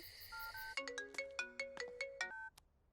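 A phone rings as a call is placed: a short tone, then a clear electronic melody of bright repeating notes for about two seconds, close and clean, ending in quiet.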